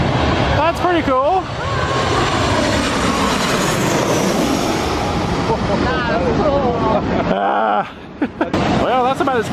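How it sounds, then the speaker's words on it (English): A Boeing 737 landing passes low overhead at Maho Beach, St. Maarten: a loud, sustained jet roar swells and fades, with people talking and calling out throughout. "We've got what I believe is a 737 coming in right over our heads."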